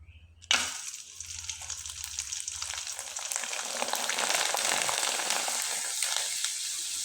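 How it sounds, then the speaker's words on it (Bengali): Dried watermelon rind chips drop into hot oil with a sudden burst of frying, then keep up a steady, dense sizzle that swells slightly louder as they puff up. "আর এখন আপনাদের কয়েকটা চিপস ভেজে দেখিয়ে দিচ্ছি।"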